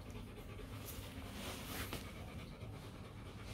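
A Rottweiler puppy, newly weaned, pants softly and steadily in quick rhythmic breaths, faint and close amid quiet background noise with no talk.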